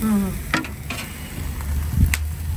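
Food sizzles steadily on a barbecue grill out on a house balcony in Greece, a constant close frying hiss with a few scrapes and clinks of utensils and a brief background voice.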